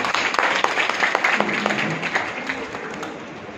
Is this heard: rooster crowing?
no